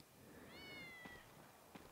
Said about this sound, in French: Le chat, je te vois, je t'entends